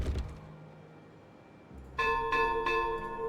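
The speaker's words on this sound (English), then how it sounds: "I love those bells" Bells ring in the video game Timberborn, three bright metallic chimes in quick succession after a quiet pause, clear and close with a lingering ring.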